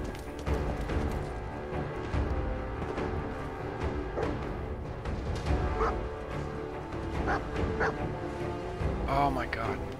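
Yips and barks from a dog in the Fallout video game, repeated over busy game noise with a person talking over them.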